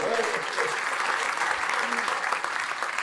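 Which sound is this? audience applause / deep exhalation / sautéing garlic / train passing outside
audience applause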